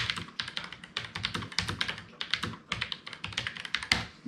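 Fast typing on a Redragon K589 Shrapnel low-profile mechanical keyboard, giving a dense run of crisp, close clicks and clacks in an uneven rhythm, with no talking over it.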